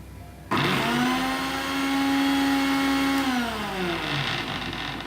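A kitchen mixer whirs continuously as it blends oil into homemade mayonnaise, kicking in abruptly and holding a loud, steady motor drone before its pitch sags slightly toward the end.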